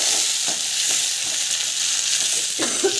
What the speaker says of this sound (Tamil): ஆனியன், இதெல்லாம் வந்து வதக்கிக்கலாம்